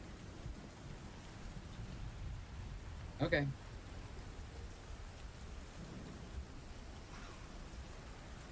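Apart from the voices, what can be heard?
rain and thunder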